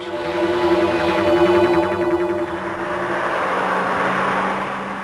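Peugeot 205 GTI engine on a hill climb race, revving hard and climbing in pitch, then settling into a sustained high drone as the car pulls away, loud and close with no talk.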